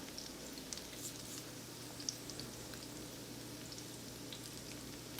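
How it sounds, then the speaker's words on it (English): Food frying in oil with paper towels nearby, a steady low sizzle and crackle with scattered tiny pops, faint and continuous throughout with no talking. "we're going to finish frying these all up"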